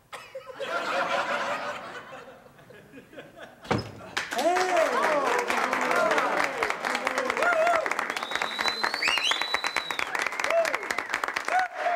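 An audience bursts into applause and laughter, first a rising wash of clapping, then a sharp knock followed by sustained clapping mixed with chuckles, whistles and talking voices.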